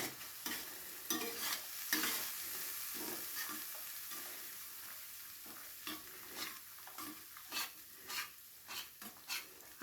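Grated mango fries with spices in a pan for a katla fish curry, a quiet continuous sizzle broken by repeated short stirring scrapes, close and without voices.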